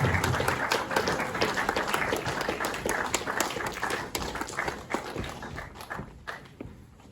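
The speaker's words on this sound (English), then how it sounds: "Another round of applause, please." An audience at a film Q&A applauds with dense, continuous clapping that thins toward the end, leaving scattered claps.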